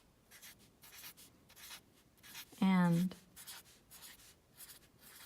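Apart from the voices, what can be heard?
Sharpie marker drawing on paper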